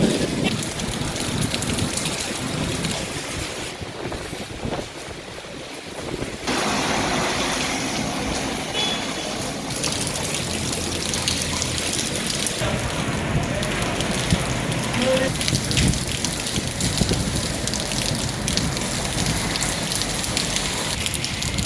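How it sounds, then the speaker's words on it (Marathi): Rain falls in Karwar, a continuous dense hiss of drops striking surfaces that stays loud and even throughout, with a faint engine-like rumble underneath and no speech. "आज कारवारा आयतारा बाजारात सकाळी पाऊस पडलो, तसेच दनपारा थोडो पाऊस पडलो."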